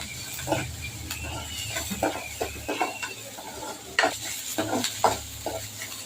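Dried red chillies and curry leaves being sautéed in a pan for buttermilk curry, with a soft sizzle beneath repeated scraping and clinking stirs of a utensil against the pan, close and steady, no voices.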